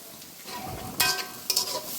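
Potatoes fry with onion, cinnamon, cardamom and bay leaf for a home-style chicken curry: a soft sizzle punctuated by two quick spatula scrapes a moment apart, near and brief, no speech.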